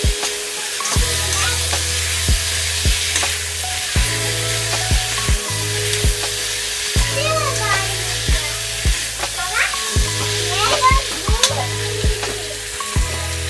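Pork with lai xaak mustard greens and turmeric frying in a pan, stirred with a utensil: steady close sizzle with repeated clanking strokes against the pan at an irregular rhythm.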